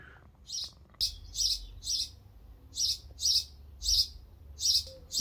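Small birds nesting in a wall's ventilation hole chirp in a series of short, sharp, evenly spaced tweets, close and clear against a quiet background.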